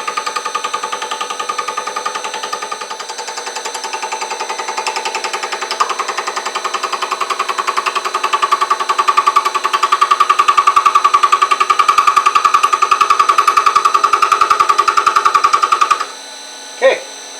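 Steady machining of a marine transmission shaft coupling with light cuts, a continuous loud rattling, chattering tool noise holding for about sixteen seconds before stopping abruptly, followed by a single short knock.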